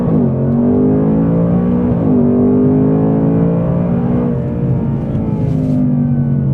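A 2024 Mustang Dark Horse with automatic transmission accelerates at full throttle from 20 to 70, its loud engine tone climbing steadily, dipping at a gear change, then climbing again.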